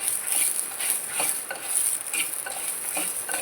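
Coriander seeds roast in hot coconut oil in a pan with red chillies, a soft steady sizzle and crackle broken by repeated stirring scrapes at an uneven rhythm, close and fairly quiet.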